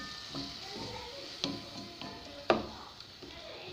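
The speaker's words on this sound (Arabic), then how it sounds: "كتشحر هاد الشرموله ديالنا" Chermoula sautés in a pan with a little oil, a soft, quiet sizzle with a few light clinks of a utensil against the pan, close and without talk.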